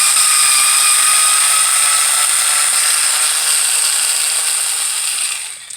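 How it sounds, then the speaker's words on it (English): An electric screwdriver whirs continuously while backing screws out of an Arrma Kraton 1/5 scale RC car differential, a loud, steady high-pitched motor whine up close that fades slightly at the end. "So we're going to go ahead and use our electric screwdriver here."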